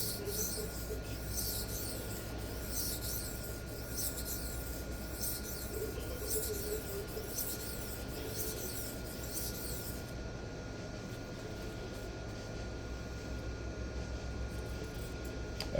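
Steel blade stroked across a Sharpal 325/1200 diamond sharpening plate, a faint, steady gritty rasp that keeps going at close range with a soft repeating rhythm of strokes.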